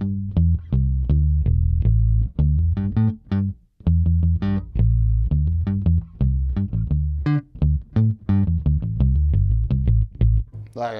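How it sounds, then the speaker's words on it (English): A Squier Paranormal Rascal HH bass picked through its neck pickup, playing a steady run of punchy, closely spaced notes with a clean, round low end, loud and alone. "My favorite tones of this bass are with a pick."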